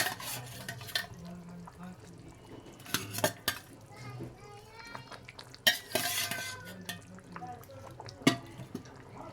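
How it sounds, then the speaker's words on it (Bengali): Fried fish goes into a simmering drumstick and potato curry, followed by stirring; scattered clinks and scrapes of a utensil on the pot sit over a quiet bubbling background, close and fairly soft. "এবার আমি ভেজে রাখা মাছগুলো ঢেলে দেব।"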